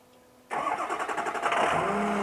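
A bucket truck's engine starting: quiet background, then a sudden crank and catch after half a second, settling into a steady medium-pitched idle with a rising tone near the end.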